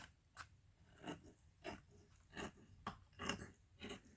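Scissors snip through lace for a handmade shabby lace envelope: a steady series of short, crisp cuts roughly every half second, quiet and close.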